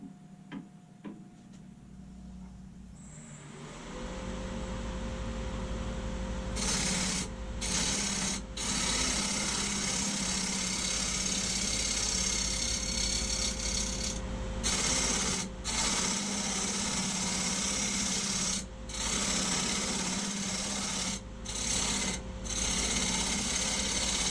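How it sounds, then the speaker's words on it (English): A lathe turning the bottom of a segmented wooden bowl: after a quiet start, a sustained close rasping, scraping hum of tool on spinning wood runs steadily, broken by brief pauses. "I'm just going to turn the bottom here real quick."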